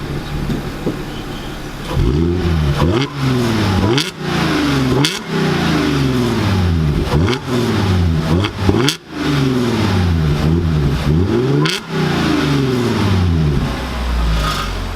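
A 2011 Audi S4 with a six-speed manual is revved repeatedly while standing, each loud rise in pitch falling back toward idle, about a dozen blips in an irregular rhythm, close and with no speech.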